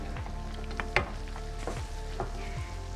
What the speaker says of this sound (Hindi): जब तक हमारी चिकन हम फ्राई कर रहे हैं